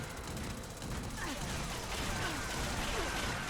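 Explosions and rapid gunfire in a video game battle, a constant busy barrage of blasts and shots, fairly quiet, heard without clear speech.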